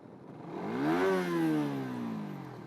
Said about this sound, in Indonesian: Suara beratnya itu loh, kadang enak didengar motor ini.